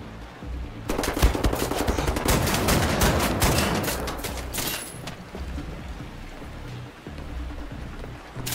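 Rapid bursts of gunfire in Wolfenstein The New Order, loud and close, run for several seconds over a low rumble of the game.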